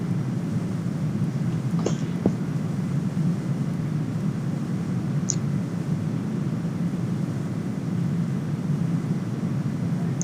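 Steady, even roar of Cessna Citation X jet engines in the X-Plane Mobile flight simulator, a continuous low-heavy drone holding at constant level with a couple of faint brief clicks, no talking.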